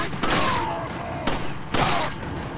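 Gunshots ring out in Resident Evil 4: three loud, sharp blasts spaced about a second apart, each trailing into a brief decaying echo, with a faint voice underneath.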